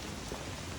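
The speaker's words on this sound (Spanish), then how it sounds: "Está lloviendo súper fuerte." Heavy rain pours steadily on a roadside stop in Aratoca, Colombia, during a motorcycle trip, a dense continuous hiss with no voices.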